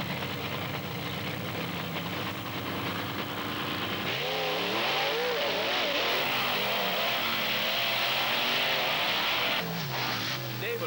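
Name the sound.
drag racing cars launching off the line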